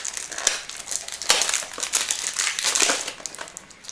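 Packaging around a Guerlain makeup-removing gel being opened, with close, continuous crinkling and crumpling of plastic or paper in bursts over several seconds.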